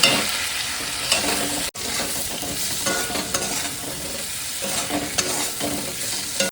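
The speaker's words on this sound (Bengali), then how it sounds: "আলুটা আমি মিনিট 2 ভালো করে মশলা দিয়ে কষিয়ে নিয়েছি।" Potatoes stir-fried in a pan with chili powder and cumin powder make a loud, continuous sizzle with repeated scraping stirs, briefly cut off once near the start, with no talk.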